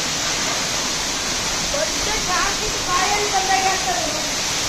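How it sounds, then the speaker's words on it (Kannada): Water from Baba waterfall at Kumbwade, Maharashtra, falls inside a cave-like hollow, making a steady, dense rushing roar close by, with faint voices in the background. "ನೋಡಿ ನೀರು ಬೀಳ್ತಾ ಇದೆ"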